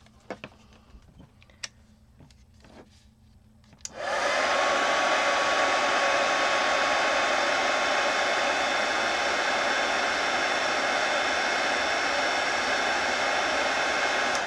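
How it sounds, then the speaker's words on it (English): After a few faint taps and clicks, a heat gun switches on and blows continuously at a loud, steady level with a bright rushing hiss, used while crafting with Distress Oxide inks. "Heat gun."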